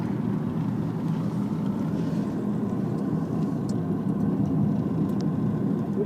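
A car drives through Oak Creek Canyon near Sedona, Arizona, with a steady low engine and road rumble from inside the cabin and no voices.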